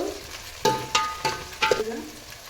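Onions fry in a pan for North Karnataka-style palak rice while a spatula stirs them in a few scraping, clanking strokes over a soft, steady sizzle.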